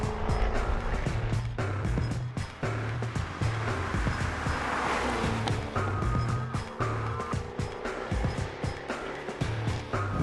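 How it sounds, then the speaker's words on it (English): A Jaguar F-Type Coupe with quad exhausts roars on the move, its engine note rising and falling while sharp crackles and pops burst out as the throttle lifts, loud and close. "It crackles and pops as it burns of fuel in preparation for the next set of corners."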